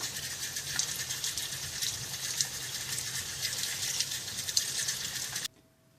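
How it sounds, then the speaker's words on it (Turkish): Tomatoes, a mix of long and large round ones, rinsed under a steady stream of running water, a continuous close gushing splash with faint droplet ticks that stops abruptly near the end. "Şimdi domateslerimi yıkayacağım."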